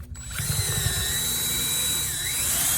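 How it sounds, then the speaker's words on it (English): A power drill bores through a stack of plastic seed trays, a loud close whirring motor with a high steady whine and rattling low grind, continuous throughout. "When you're stacked together like this, it's easier to drill."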